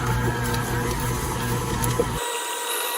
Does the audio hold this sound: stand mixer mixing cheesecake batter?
yes